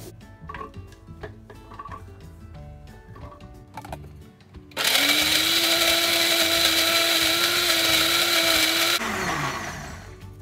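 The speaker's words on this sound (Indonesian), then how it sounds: "Nih, nanti habis ini kita blender ya" Faint clicks and rustling, then a blender roars on at high speed blending beetroot for several seconds, steady and loud, before winding down.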